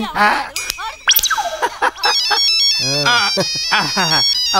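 A phone ringtone plays a bright electronic melody with rising and falling tones, fairly loud and close.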